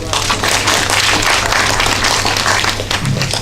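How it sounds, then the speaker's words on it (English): Steady, dense clapping from an audience at a parenting forum, continuous and fairly loud for a few seconds, with low hum underneath. "So give her a big round of applause."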